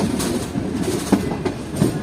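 The Karakoram Express, running from Karachi to Lahore at night, rumbles steadily close by, with a few sharp wheel clacks breaking through the continuous rolling noise.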